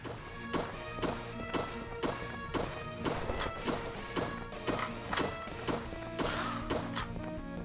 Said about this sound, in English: I feel like this gunfire sound will be in my head for weeks now.